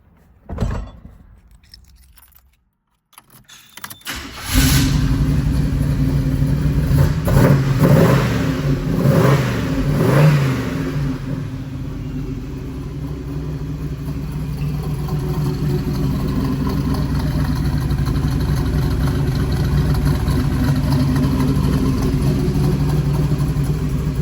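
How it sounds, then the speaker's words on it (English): A 1983 Oldsmobile Cutlass Hurst cranks after a few quiet clicks, fires up loudly, revs a couple of times, then settles into a steady rumbling idle close by. "We'll fire this baby up."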